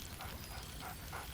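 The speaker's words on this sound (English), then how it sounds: "Scratch barks merrily in something like agreement." A dog in the video game Baldur's Gate 3 gives about four short, bright barks at a steady pace over a low, constant background hum, fairly faint and with no talking.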